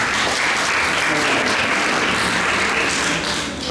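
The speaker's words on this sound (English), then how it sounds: "A round of applause." Sustained, loud applause from a theater audience welcoming a volunteer brought on stage, a dense even wash of clapping for a few seconds.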